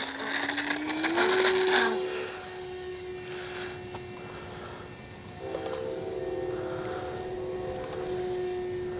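An FMS Ranger 1220 V2 electric RC plane flies outdoors, its motor whine rising sharply in pitch as the throttle climbs, then holding a steady tone with small shifts; there is no talking.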